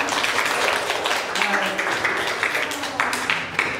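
Students in a classroom clapping after a group presentation: a short, fairly dense burst of applause from a small group, close and uneven.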